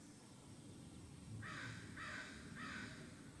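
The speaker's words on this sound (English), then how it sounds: "you can probably hear a bird" A crow caws three times in the background, evenly spaced, faint and distant over a low steady ambience.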